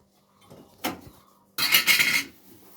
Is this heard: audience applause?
no